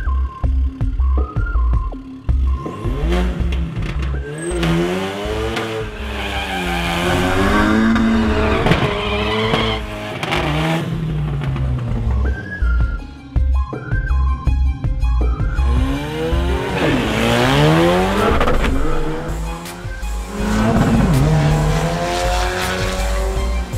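A 2015 Ford Mustang with the 2.3 liter EcoBoost engine runs at wide open throttle on track, loud revs climbing and dropping through gear changes, with tire squeal and skidding mixed in across the run.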